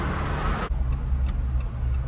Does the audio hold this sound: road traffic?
yes